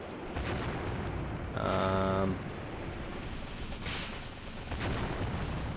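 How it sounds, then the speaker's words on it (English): Mortar fire in the World War II strategy game Mius Front lands as a few muffled, distant booms spaced a couple of seconds apart, quiet against a low rumbling background. "Mortars are on the case."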